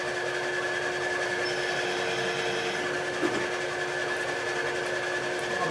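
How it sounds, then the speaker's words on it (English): A drill bores a hole in a part from a 1961 Harley-Davidson Sportster XLCH, producing a steady high-pitched whirring motor drone that runs continuously and close, with no talking. "so drill just this one hole here, a little bit deeper"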